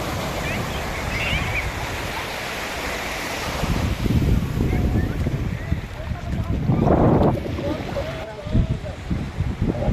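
Sea waves washing on a shore, a continuous broad roar with swells rising and falling, mixed with wind buffeting the microphone and people talking over it.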